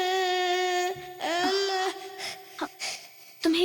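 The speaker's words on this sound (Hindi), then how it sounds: "तुम्हें किसी बच्चे के रोने की आवाज सुनाई दे रही है?" A baby cries in a South Indian horror thriller, a sustained high wailing tone that breaks into sobbing bursts and whimpers, fairly close and alone without speech.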